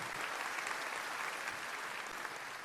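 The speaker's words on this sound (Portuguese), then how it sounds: "quero que você aplaude o Senhor" Applause from a church congregation fills the whole stretch, steady and dense, loud and close with no voice over it.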